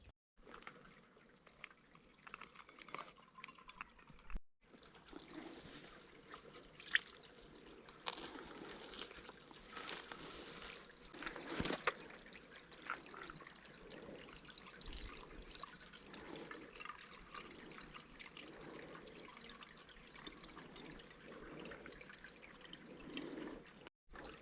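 Spring water trickles quietly into a cooking pot at the source of a small stream in the outdoors, giving a continuous soft, faint gurgle with small splashes and no voices.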